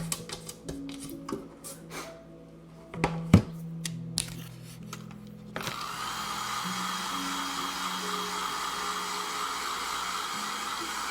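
A hair dryer dries a sugar cookie transfer, switching on partway through after some tapping and handling clatter, then blowing a steady loud whooshing whir to the end, close by with no talking.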